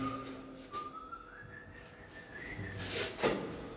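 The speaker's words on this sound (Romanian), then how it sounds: "Bă, da, fluieră fain," A person whistles a melodic tune, the pitch rising and wavering in a clear mid-range line over faint background noise, with a louder brief burst near the end.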